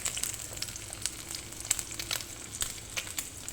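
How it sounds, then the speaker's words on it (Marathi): Onion browning in oil in a pan for a dal tadka, a steady crackling sizzle with bright spitting pops throughout, close and moderately loud, no talking. "आता आपला कांदा ब्राऊन झाल्यामुळे मी यामध्ये अजून 1 चमचा तेल टाकलेलं आहे आणि आता याला व्यवस्थितरित्या परतून घेते मी."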